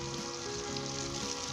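Chicken frying in a pan with turmeric, salt, red chili and garam masala, giving a steady, quiet sizzle that holds evenly throughout without any voices.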